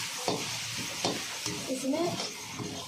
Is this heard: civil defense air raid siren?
no